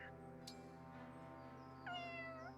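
A cat meows inside the Fire Emblem Engage game, a short tonal call that swells near the end over steady background music.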